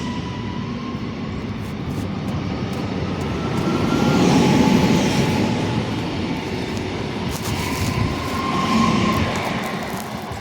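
A Husarz electric locomotive hauling the Berlin–Warsaw Express passes through Warszawa Włochy station, a broad steady rumble of wheels and carriages swelling to a peak midway and holding, with no voices.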